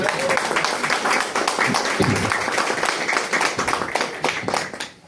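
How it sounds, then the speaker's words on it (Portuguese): An audience at a podcast launch event applauds a veteran Olympic judo medalist with lively clapping, individual claps standing out within the crowd. The applause holds strong for several seconds, then thins and fades near the end. "Merece uma salva de palmas, pessoal"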